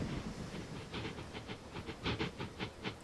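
A steam locomotive hauls passenger coaches in the railway game Transport Fever 2. Steady rhythmic clickety-clack wheel beats and a soft hiss of steam run at moderate distance and fairly low volume, with no voices.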